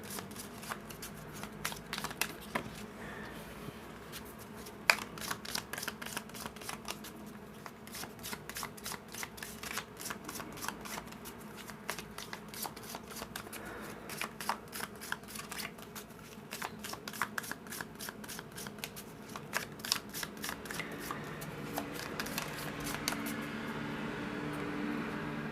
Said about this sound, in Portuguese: Cortando. Nosso deck está pronto da leitura.